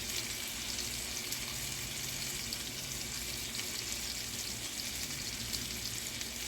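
Ghee butter sizzles steadily in a hot pan while a potato casserole, steak and broccoli meal is cooked, a close, continuous crackling hiss with no talk over it.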